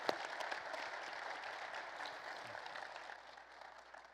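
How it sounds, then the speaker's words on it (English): Faint, steady applause from a conference audience at the close of a technology panel session, distant and even, tapering slightly toward the end. "Let's give them a round of applause, please."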